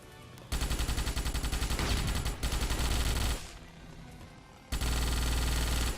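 Rapid automatic gunfire from the Starship Troopers video game rattles in long sustained bursts, loud and continuous, with one short pause before the firing resumes.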